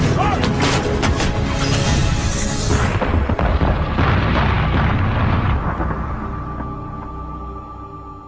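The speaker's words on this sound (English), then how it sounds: "At times, the supporting artillery was the only thing slowing the Chinese advance." Korean War artillery barrage at the Imjin River: loud, dense rumbling explosions and booms that roll together, then slowly fade into a lower, distant rumble.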